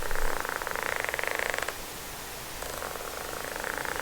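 A Chris King bicycle hub freewheel spinning with a fast, even ratcheting buzz that sounds like a cat purring, fading out briefly in the middle before resuming, close and quiet with no talk.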